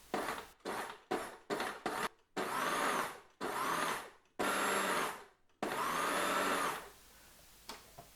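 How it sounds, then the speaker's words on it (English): A food processor pulses and then runs in longer bursts, cutting chilled cubed unsalted butter into flour to make a fine crumb. Several short whirring bursts come first, followed by three sustained runs that are loud and close, with brief silences between them. "Process until you have a free-flowing, fine breadcrumb texture."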